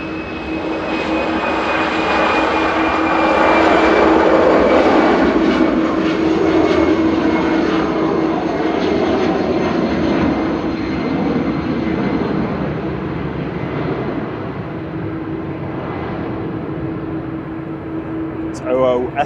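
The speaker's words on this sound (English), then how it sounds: "SSL departing there for Brussels Airlines, heading back to Breeze, Brussels, with flight 2184, little A319, 22-year-old aircraft" A 22-year-old Brussels Airlines Airbus A319 departs with a loud, sustained jet roar that swells and then slowly recedes into the distance, with a steady engine whine running through it and a voice speaking over it.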